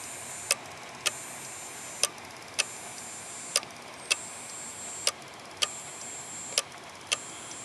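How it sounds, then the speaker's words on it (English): A failing computer hard drive clicks sharply at a regular pace, about one click every half second, with a steady hiss behind it and no voices. "prove that this hard drive is clicking"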